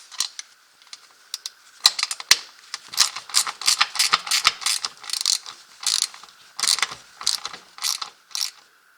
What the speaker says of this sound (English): so you need a 10 mil wrench, 10 mil socket. Let's see if we can get them off.